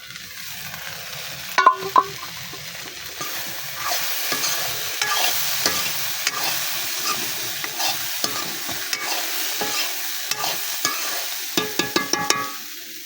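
Malabar spinach seeds stir-fry in a pan in a village kitchen, with a soft sizzle under repeated scraping and knocking strokes of a spatula, clattering more sharply near the start and end.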